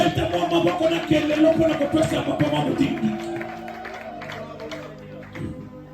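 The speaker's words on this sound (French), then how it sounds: "Encourage-moi avec vos applaudissements au nom de Jésus" A church congregation at a Sunday service claps in a dense burst of applause mixed with cheers and voices, loud at first and thinning toward the end.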